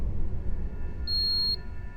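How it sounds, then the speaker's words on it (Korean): An alarm tone sounds in a CCTV control room: a single steady high beep lasting about half a second, clear above a low rumbling room hum, with no voices. "알람이 또 울리는 겁니다"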